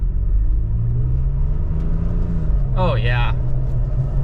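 A Toyota Tacoma pickup truck engine rumbles and builds steadily at half throttle, with a low drone throughout and a brief spoken exclamation over it near the end.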